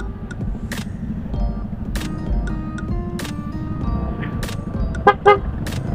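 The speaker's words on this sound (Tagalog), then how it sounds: "Pero it's traffic everywhere." Heavy road traffic on Sabarte Road, a steady engine drone with repeated short car horn toots scattered throughout and a pair of louder honks near the end.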